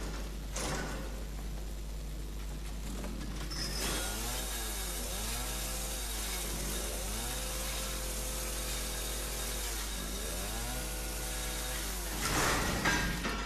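A chainsaw drones steadily in Resident Evil 7, its engine pitch repeatedly revving up and down in sweeping cycles, loud and close throughout.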